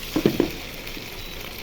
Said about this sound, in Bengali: একদম ভাজা ভাজা করে নিছি, পানি ছাড়া।